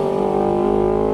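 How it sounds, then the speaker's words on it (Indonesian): A Honda CBR250RR sport motorcycle fitted with an R9 GP exhaust holds a loud, steady, high-pitched rev close by, its harsh tone constant throughout with no talking. "Jadi selamat menikmati suara gahar dari knalpot R9 GP."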